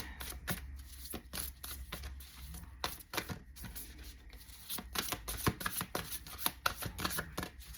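Tarot cards are shuffled and drawn in quiet, irregular bursts of soft riffling slaps and flicks, close and faint, with no one speaking.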